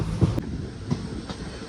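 Passenger train running between Kottarakkara and Punalur, heard as a steady rumble of wheels on rails with faint rhythmic clacks, a continuous close drone with no talk.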